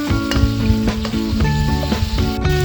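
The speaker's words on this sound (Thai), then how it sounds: "ใส่ลงไปเลยจ้าถั่วฝักยาวที่เราหั่นเตรียมไว้แล้ว ใส่ลงไปผัดพร้อมกันนะคะ" Pork and chopped long beans stir-fry in a hot pan with a steady loud sizzle, punctuated by repeated rhythmic scraping and clanking of a spatula against the pan.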